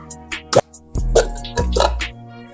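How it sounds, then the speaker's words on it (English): Thick yam syrup pours from a can of sweet potatoes, giving a few wet plops and drips in short bursts with a low glugging underneath, close and fairly clear. "I'm gonna pour out the syrup and just get the sweet potatoes out of this"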